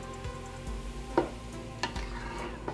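A non-stick spatula stirs sambhar lentil soup in a Ninja Foodi non-stick pot, giving a few soft, brief scrapes and clacks at irregular intervals over a quiet, faintly sizzling background.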